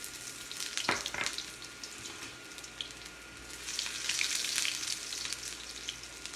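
Chopped garlic frying in oil in a pan for veg chow mein, a steady close sizzle with a couple of sharper crackles early on and a brief swell of louder hissing midway, no talking.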